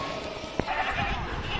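Goats bleat at a crowded livestock market ahead of Bakra Eid, a brief nasal cry rising out of steady background crowd noise and murmuring.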